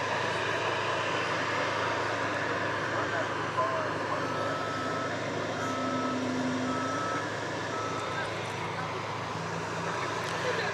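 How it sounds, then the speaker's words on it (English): An American Airlines Airbus A321 jet rumbles on the runway at an airport after dark, a steady moderate engine drone with a faint beeping vehicle and brief talk nearby. "It's an Airbus A321."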